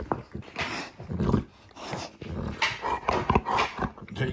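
A female Dogue de Bordeaux in heat pants and growls nearby, with breathy pants and low rumbling growls broken into uneven bursts, fairly quiet.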